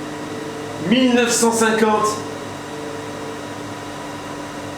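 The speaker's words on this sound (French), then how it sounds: "T'entends les ventilos qui tournent? Il y a les deux ventilos qui tournent." Two cooling fans whir steadily inside an EcoFlow Delta power station under a heavy load of about 1850 watts, a constant hum while someone speaks briefly over it.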